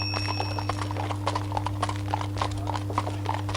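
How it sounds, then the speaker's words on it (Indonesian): Horse hooves clip-clop in a steady, quick rhythm as a horse-drawn carriage moves along, each strike crisp and close over a constant low hum, with no talking. "entah kereta kuda atau kudanya gitu"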